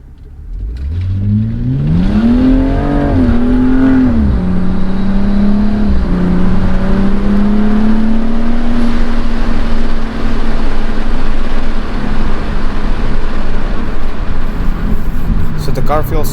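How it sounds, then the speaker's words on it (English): A car in sports race mode accelerates hard, its engine note climbing steadily and holding a loud, sustained roar with rising pitch throughout, heard close up from inside with a voice speaking over it. "when I step on the gas it accelerates so quickly"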